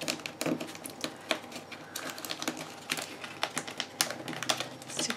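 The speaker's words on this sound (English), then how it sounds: "I'll use my fingers to crinkle it up a little bit" Fingers crinkle a paper border strip for a scrapbook layout, giving close, irregular crackles and sharp rustling snaps in quick bursts against a quiet background.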